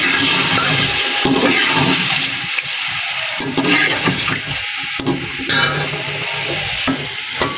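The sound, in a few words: meat, potatoes and tomatoes frying and being stirred in a pot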